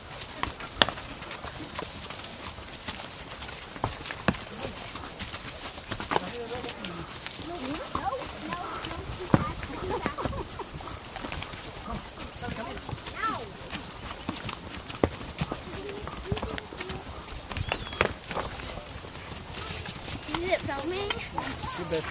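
Horse hooves clip-clop steadily through a horseback ride in Costa Rica, light and fairly close under constant outdoor hiss, with a few bird calls and people talking now and then.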